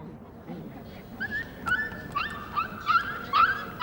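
A puppy held by a male baboon whimpers in a series of high, thin, wavering cries that grow louder and more frequent, set against faint outdoor background noise.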